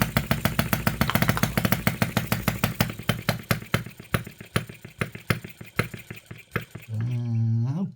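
OKMO 1110 miniature 1950s Japanese replica engine running, a rapid close popping beat that slows and fades as it dies, followed by a brief low rumble at the end.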